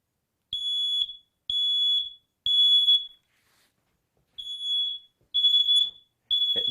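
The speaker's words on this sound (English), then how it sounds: "the first thing we want to do is test it before we place it, because this smoke detector is there to save your life" A smoke detector under test sounds loud, piercing alarm beeps in six evenly spaced bursts with a short pause partway through, close by and with no talking.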